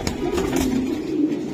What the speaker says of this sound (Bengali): এই কবুতরটা অনেক ভালো হয় ভাই